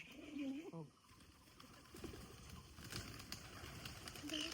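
Jalali pigeons coo in low, throaty bursts, one near the start and another at the end, over a steady murmur of background noise.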